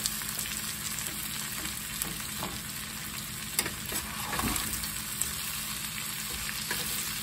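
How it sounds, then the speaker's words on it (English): Potatoes and onions for homemade corned beef hash fry over medium heat in a pan, a constant dense sizzle and crackle close up, with a few faint stirring scrapes along the way. "All you're doing now is cooking the potatoes and the onions"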